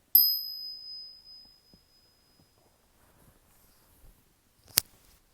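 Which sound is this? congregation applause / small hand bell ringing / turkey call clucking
small hand bell ringing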